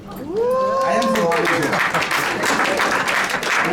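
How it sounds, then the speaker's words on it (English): Audience applause at a United Nations side event, dense clapping rising quickly and holding steady, with voices and cheering audible over it at the start. "Let's give them a round of applause."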